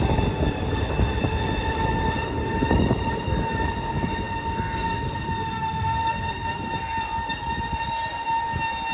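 A passenger train on the Palakkad–Nilambur line pulls into Pattikkad station, its wheels squealing steadily against the rails under a continuous rumble, with a faint horn-like tone, heard from inside a coach.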